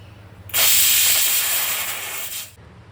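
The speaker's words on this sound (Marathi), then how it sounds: "आता ह्याच्या लो टू मीडियम फ्लेममध्ये 3 ते 4 शिट्या करून घ्यायच्या." A pressure cooker whistles on the stove while dal cooks, giving one loud, sustained steam hiss of about two seconds that tapers off slightly at the end.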